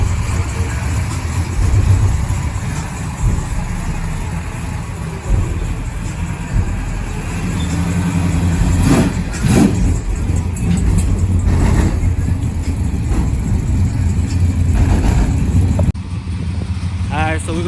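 A 1975 Chevrolet Caprice convertible on Forgiato wheels idles with a steady low engine rumble throughout, with people talking over it and brief louder shifts in the engine note.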